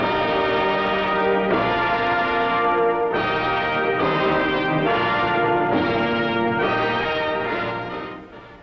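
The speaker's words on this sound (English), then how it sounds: "Compared with RCA Victor's new orthophonic sound." Full-bodied orchestral music on an RCA Victor New Orthophonic high-fidelity recording plays steadily and loudly, with rich sustained harmonies that shift in sections before fading at the end.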